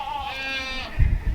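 Goats on a farm let out a drawn-out, wavering bleat that fades, followed by low thumps and rumbling handling noise nearby; no one speaks.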